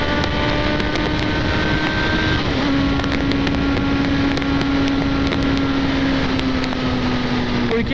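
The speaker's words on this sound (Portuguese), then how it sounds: "Vamos dar uma aceleradinha aí." An XJ6 on Michelin Pilot Street tires accelerates, its engine a steady droning whine with a faintly rising pitch over constant wind rush, loud and close throughout.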